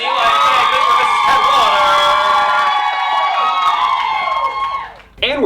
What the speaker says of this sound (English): I want to hear one more huge round of applause for your newlyweds, Eli and Meg